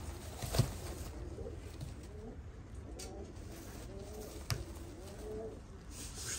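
Kakite pigeons coo in low, soft, repeated phrases over a steady background hum, with a brief knock near the start and another faint tap later.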